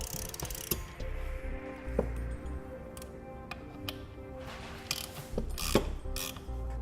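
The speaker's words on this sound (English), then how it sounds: "Now I'm going to come back with a 7/32 Allen socket and tighten them all up." Hand ratchet with a 7/32 Allen socket tightening air helper spring bracket bolts on a 2011 Ford F-250, a steady run of close rapid clicking with a few louder knocks.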